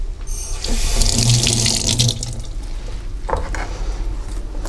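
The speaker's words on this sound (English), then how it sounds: "I should rinse the seeds out of it too." Kitchen tap running over sliced bell peppers while the seeds are rinsed out, a close, steady gush of water splashing into the sink throughout.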